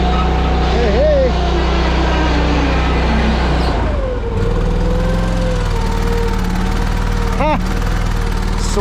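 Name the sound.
engine of auction purchase running after being started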